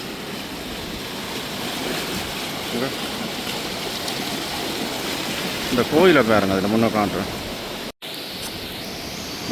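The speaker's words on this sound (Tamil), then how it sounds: "தண்ணி ஒரு சத்தம் கேட்குதுண்டு பாருங்கள்" Floodwater rushes and roars continuously beneath a bridge while someone talks over it, after a cyclone in Vanni. The sound cuts out briefly near the end.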